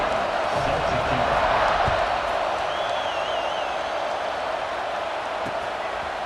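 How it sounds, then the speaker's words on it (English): A stadium crowd in EA Sports College Football 26 roars in a dense, steady wash of cheering just after a score, loud and sustained with no break across the whole stretch. "this crowd is buzzing after that last score"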